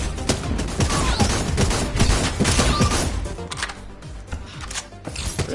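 Dense, rapid gunfire from enemies in the VR action game Sairento VR, crackling bursts of shots overlapping with impacts and clatter in a busy, close battle mix with no pauses.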